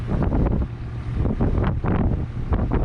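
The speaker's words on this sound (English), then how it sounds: "Very windy." Strong wind buffeting the microphone in loud, rumbling gusts that rise and fall throughout, with no voices.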